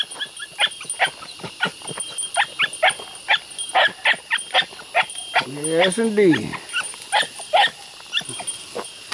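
A young hound pup bays on a trail, giving a steady run of sharp, rhythmic bays at moderate distance, with one long drawn-out howl partway through; someone says a few words briefly.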